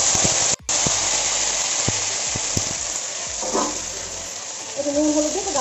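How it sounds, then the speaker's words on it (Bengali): Bitter gourd sizzles steadily in hot oil tempered with black cumin, a continuous loud frying hiss with a brief dropout and a few light clinks partway through. "সবে মাত্র এই যে উচ্ছেটা বসিয়ে দিচ্ছি এখন, কালো জিরা ফোড়ন দিয়ে"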